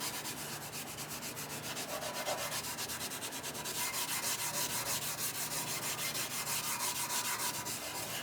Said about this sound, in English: I think the idea behind the 4-0 wire wool is to lift up the little sort of rust spots